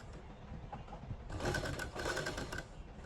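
Sewing machine stitching a facing strip onto a garment neckline, whirring steadily in a continuous run of fairly loud mechanical hum that swells and eases, no voices present.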